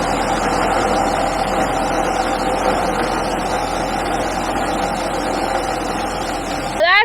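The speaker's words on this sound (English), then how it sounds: "So we're going to start the PTO one last time, run this corn up" Tractor power take-off driving a blower that sends corn up, a constant mid-pitched engine drone with a steady whirring hum, close and unbroken, with a brief sharp sound near the end.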